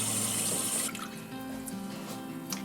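Tap water runs into a sink while dandelion greens are rinsed under it, a close, steady splashing stream with soft trickles and drips as the leaves are moved around.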